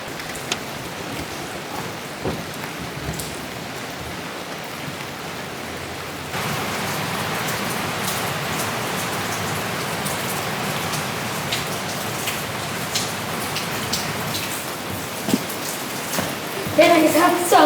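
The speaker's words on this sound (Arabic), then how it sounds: "دافي مع مطر" Rain falling in a forest, steady dense patter that grows heavier partway through, with scattered louder drops close by and a brief clatter near the end.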